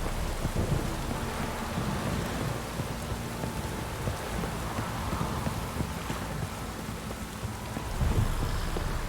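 Heavy rain pours steadily in a thunderstorm in The Witcher 3, with low thunder rumbling through a dense, continuous hiss and scattered hoof-like clops, no voices.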